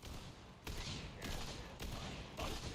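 Gunfire in the video game Borderlands 3 on Xbox One, four evenly spaced bursts of shots rattling through a dense, constant layer of game noise, faint and without talk.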